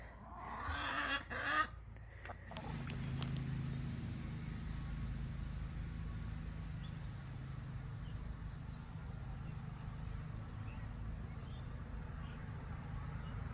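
Fowl or other farm birds cluck near the start, with quieter bird calls afterward over steady outdoor background noise.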